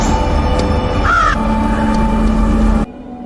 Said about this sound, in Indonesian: melihat banyak burung gagak yang nabrakin diri ke jendela kamarnya